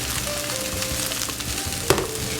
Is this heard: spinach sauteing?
yes